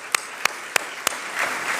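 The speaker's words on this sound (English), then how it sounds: "So give them a round of applause." Applause at a business leadership awards ceremony, starting with four evenly spaced sharp claps, then swelling into a soft spread of many hands clapping.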